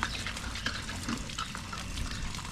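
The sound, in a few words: water poured into garden soil mixture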